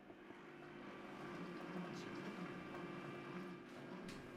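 Kitchen robot running its cooking program at 90 degrees and speed 1, giving off a faint, steady motor whir and hum with a few light ticks.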